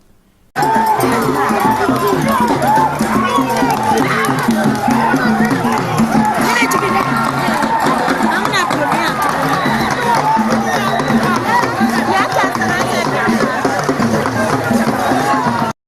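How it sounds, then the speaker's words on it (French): Thousands of young people cheering at an initiation ceremony with cane-bearer dancers, a loud dense roar of crowd shouts and babble bursting in abruptly and holding steady throughout. "les milliers de jeunes expriment leur joie par des acclamations"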